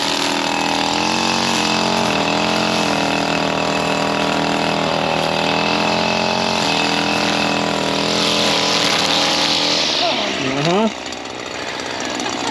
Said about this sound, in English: You notice DQ's trimming away from me